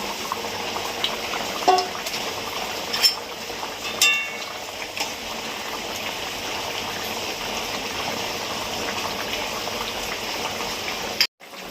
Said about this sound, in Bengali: মাছগুলো দিয়ে দেবো, জল ফুটে উঠেছে।